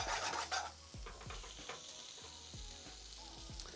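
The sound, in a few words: tomato puree heating in a pan for Indian madras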